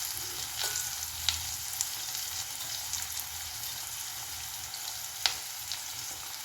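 Spices hit hot oil for farali moraiya khichdi, giving a steady close sizzle and frying hiss with a few sharp ticks and pops, no talking.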